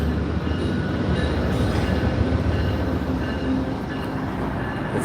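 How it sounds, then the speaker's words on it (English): A Via Rail passenger train rolls past at a station in Montreal, a steady, loud rumble of wheels on track with a faint squeal, continuous throughout with no talking. "Oh, we got a Via train here, guys."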